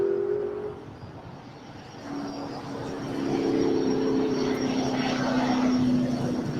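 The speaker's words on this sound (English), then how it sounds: "So Lufthansa A350. Slowly making her way to Tom Bradley." A Lufthansa Airbus A350 airliner moving slowly at LAX, its low engine hum and whine building gradually and holding steady at a distance, with a tonal drone rising over outdoor ambience.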